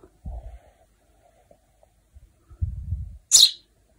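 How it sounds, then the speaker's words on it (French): A small bird, seemingly a nestling near a nest beside a mountain road in Tusheti, Georgia, gives one sharp high chirp after a few low rustles and thumps. "Quel est cet oiseau?"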